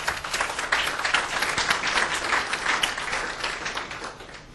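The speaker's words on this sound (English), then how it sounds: "Or clapping, that's okay." Audience clapping at an education technology talk, a fairly quiet scatter of many hands with busy, uneven claps that rise and ebb before thinning out toward the end.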